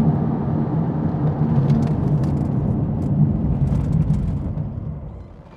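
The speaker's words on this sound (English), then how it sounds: "we'll try and invoke ABS with pretty much the hardest pedal press that I can do" Car with carbon ceramic brakes stopping hard from speed with ABS engaged, a loud steady low rumble of tyres and road noise with faint pulsing clicks, fading out as the car comes to rest; no voices.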